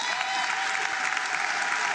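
A hall audience gives sustained, dense applause for a student award winner at a national school results announcement, loud and even throughout with no clear talk.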